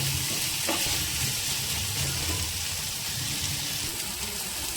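Steady sizzling of tomatoes sautéing in a hot pan, a constant crackle and hiss with a few stirring scrapes, no talking.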